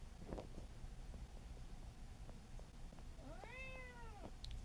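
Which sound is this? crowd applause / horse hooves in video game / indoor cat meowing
indoor cat meowing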